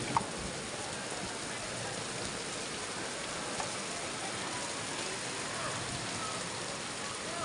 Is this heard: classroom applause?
no